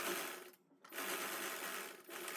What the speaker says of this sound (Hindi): उल्टी साइड से सिलाई लगाएंगे।